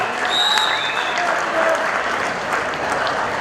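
Steady, loud applause from a crowd at a men's and women's kabaddi tournament, sustained without a break and with a little shouting mixed into the clapping.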